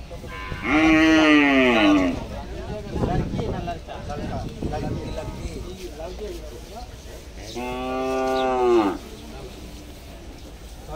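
Cattle at the Gabtoli cattle market in Dhaka low loudly twice, long drawn-out moos close by amid crowd chatter and people talking.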